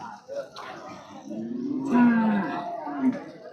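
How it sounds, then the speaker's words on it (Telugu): HF and Jersey dairy cows at a busy cattle market in Punganur, Chittoor district: a long, low moo swells near the middle, with shorter calls and background murmur around it. "ఇక్కడికి హెచ్ఎఫ్, జెర్సీ, క్రాస్ బ్రీడ్ అన్ని రకాల ఆవులు వస్తుంటాయి."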